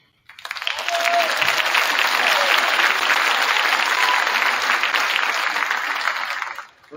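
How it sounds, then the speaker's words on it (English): A crowd at a football championship celebration applauds with loud, sustained clapping that starts abruptly and lasts several seconds before fading out. "Round of applause for Coach C."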